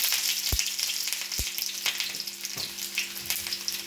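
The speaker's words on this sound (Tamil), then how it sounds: "எண்ணெய் கொஞ்சம் ஊற்றிருக்கேன். அது மேலே ஒரு கருவேப்பிலையை போட்டுக்கணும்." Curry leaves fry in a little oil on a dosa griddle with a close, continuous crackling sizzle, broken by two sharp knocks early on and a faint steady hum beneath.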